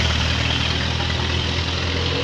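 Heavy trucks idle and rumble steadily at close range near the Keramasan toll gate, a continuous low engine drone with broadband road noise and no voices.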